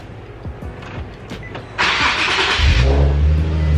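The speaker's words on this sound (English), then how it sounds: "So start the car." A Nissan 370Z engine cranks over and catches, settling into a loud, steady idle after some faint clicks and shuffling.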